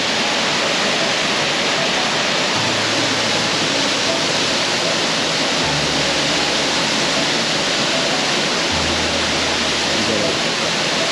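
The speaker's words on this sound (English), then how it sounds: "just listen to the power of that water." Powerful rushing water from a waterfall roars continuously and loudly throughout, a broad unbroken wash of sound with faint low hums underneath.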